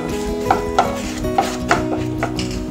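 A spoon stirs roasting gram flour with turmeric powder in a pan, giving soft scraping strokes with a few sharper knocks against the metal over a steady low background hum.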